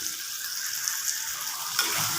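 Soft, steady sizzle of food sautéing in a clay pot for eggplant tamarind curry, with light stirring scrapes and a faint clink.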